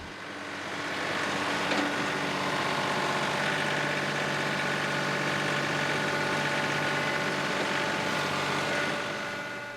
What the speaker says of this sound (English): using the backhoe to dig this out further